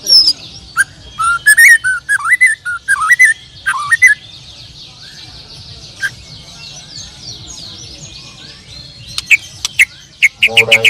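A Murai Batu, or white-rumped shama, sings in varied rich whistles and chirps, loud and close, with bursts of rapid notes separated by pauses and sharper calls near the end.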